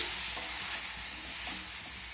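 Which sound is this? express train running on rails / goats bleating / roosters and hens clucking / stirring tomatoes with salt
stirring tomatoes with salt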